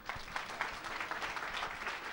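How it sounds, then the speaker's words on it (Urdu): A church congregation applauds during a service, dense, steady clapping heard faintly and at a distance without a break. "ہم خدا کے خادم کو اور خدا کے کلام کو زوردار تالیوں سے دعوت دیں گے"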